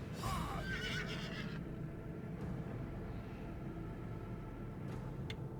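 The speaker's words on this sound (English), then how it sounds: "Level 50 horse." A level 50 horse in a video game neighs and whinnies in a bright, wavering burst at the start, followed by quieter game background sounds and a couple of faint clicks.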